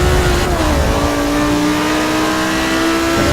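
Several Porsche race cars in a pack of five battling on a track, engines droning steadily and loud with a rising, shifting whine as they pass close by, no voices over the roar.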